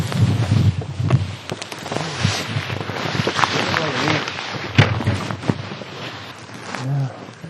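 Wind gusting at night outside Crater Lake Lodge, a steady broadband roar that swells and eases, with people talking nearby over it.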